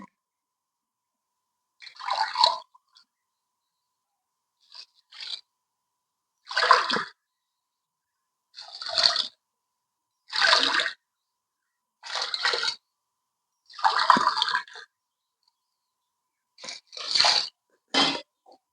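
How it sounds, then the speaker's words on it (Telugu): Water is poured glass by glass into a pot for chicken biryani rice, in a series of short splashing pours separated by silent pauses, close and fairly loud, with no voices. "ఈ టైంలో మనం వాటర్ పోసుకుందామండి ఇప్పుడు ఈ గ్లాస్తో నేను మూడు గ్లాసులు వేసాను కాబట్టి నాలుగున్నర గ్లాసులే వాటర్ పోస్తున్నాను"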